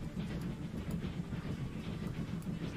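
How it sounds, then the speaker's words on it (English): A train arriving in Transport Fever 2 on the Bristol to Chepstow line, heard as a steady, moderately loud low rumble of rolling wagons with a faint rhythmic rattle throughout. "Let's just manage this train coming in."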